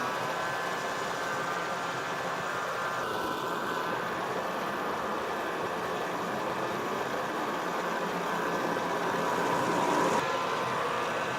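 Steady, even mechanical drone of an Allett Liberty 43 cylinder lawn mower running with its blades engaged while mowing grass, a continuous close whirr with no talking.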